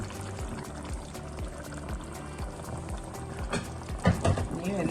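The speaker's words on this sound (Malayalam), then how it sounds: "നമുക്ക് കാഷ്യൂനട്ട് അരച്ചത് ചേർത്ത് കൊടുക്കണം." Ground cashew paste is poured into a simmering Kerala-style mutton stew, with a soft pour and a gentle bubbling sizzle from the pot, followed by light stirring sounds near the end.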